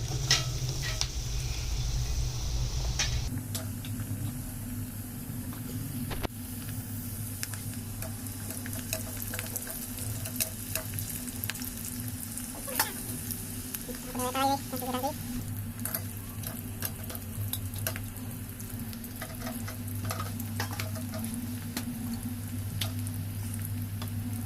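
Sliced potato chips dropped into hot oil in a home kitchen fry with a steady, dense sizzle and bubbling that starts loudly and then settles into a constant crackle, with occasional faint clinks.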